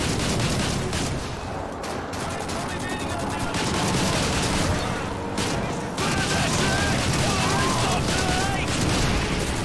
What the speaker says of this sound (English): they're shooting themselves